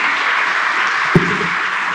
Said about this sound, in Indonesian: Sekali lagi tepuk tangan untuk semuanya.